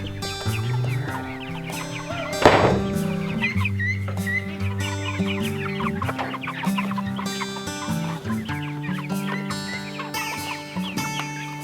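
Young black Jersey Giant chickens cluck and squawk continuously, a dense busy flock close by, with overlapping calls and one louder burst of flapping or scrabbling partway through.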